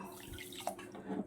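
Water splashes and trickles as it is poured into a pan of sugar to make syrup for Mysore pak, a soft, fairly quiet pour with no voices.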